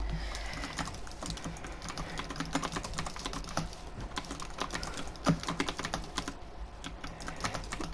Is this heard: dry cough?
no